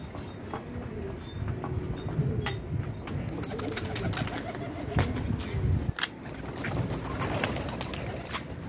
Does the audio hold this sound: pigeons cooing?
yes